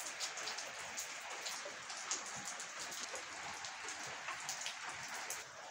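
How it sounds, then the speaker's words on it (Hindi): Steady rain patters down outdoors in the evening after falling since morning, a constant soft hiss with scattered drop taps and no talking. "अभी जी भाई साहब दोबारा से बारिश स्टार्ट हो गई है"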